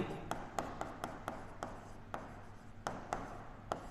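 Handwriting on a board or page during a science lesson, with steady rapid pen or chalk strokes scratching and tapping in quick irregular bursts, close and moderately loud, with no talking.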